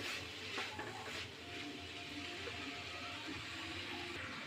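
Bottle gourd peel frying in a pan is stirred, giving a steady low sizzle with soft scraping and clinks of a utensil against the pan, close and continuous throughout.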